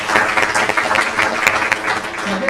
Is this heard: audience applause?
yes